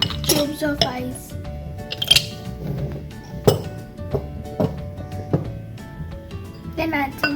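Ice cubes drop into a jar holding crushed mango and honey for mojitos, making scattered sharp clinks and clatters against the glass, spread unevenly and fairly close.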